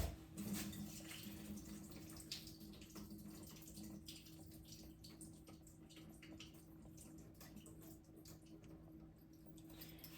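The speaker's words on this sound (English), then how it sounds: "Just gonna open that about halfway so I can drain the water off." Water drained from a pot of boiled corned beef and cabbage with whole potatoes, the lid held halfway open; a steady, close pour and trickle runs throughout over a low hum.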